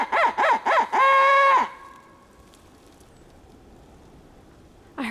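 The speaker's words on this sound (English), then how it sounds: "I heard a gobble across the road." A wild turkey gobbles in a rapid rattling burst, then holds a long drawn call, fairly clear, followed by quiet with a brief return of sound at the end.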